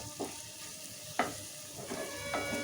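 Garam masala and coriander powder fry lightly in oil, a soft, quiet sizzle with a few sharp spoon scrapes at irregular intervals.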